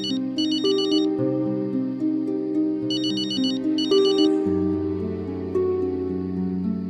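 A phone ringtone plays for an incoming call, a bright melodic tune with bursts of fast trilling tones repeating over sustained chords, loud and close with no talking.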